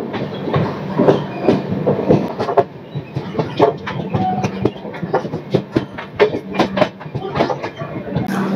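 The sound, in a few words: train departing and running on rails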